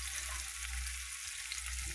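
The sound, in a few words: coconut, coriander, garlic and ginger paste frying in oil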